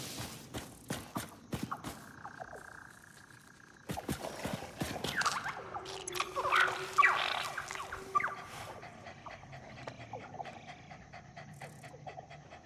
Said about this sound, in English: Welcome back, doggy boy.